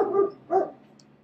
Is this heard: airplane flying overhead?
no